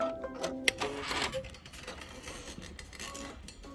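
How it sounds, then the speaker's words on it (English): Kimberbell embroidery sewing machine stitching a pie design, a quiet rapid mechanical patter with a sharp clack near the start, fading into softer ticking. "before it sews out this piece of pie"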